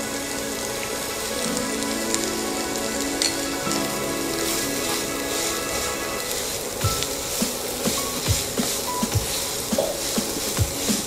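Parsley and red chili flakes sauté in a hot pan, a continuous crackling sizzle throughout with light stirring taps growing toward the end.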